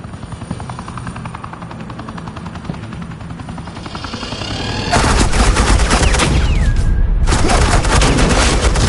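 Suppressing fire in the Batman: The Enemy Within game, heavy automatic bursts over a helicopter drone, starting quieter then jumping to a loud dense barrage partway through, with no talking.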